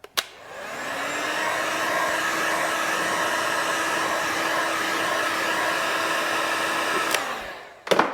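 Heat gun or hair-dryer-style blower warming a dented car panel during paintless dent repair: a steady, loud whirring blast running about seven seconds, starting and stopping abruptly with clicks.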